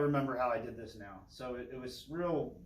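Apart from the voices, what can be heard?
No everyday noises stand out.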